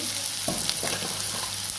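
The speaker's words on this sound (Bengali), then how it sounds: "পেঁয়াজ ভাজটা হচ্ছে, আর একটু ভাজবে" Onions sizzle steadily in a hot pan, with a few scraping stirs breaking through the crackle.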